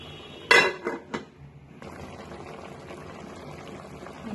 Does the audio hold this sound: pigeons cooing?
no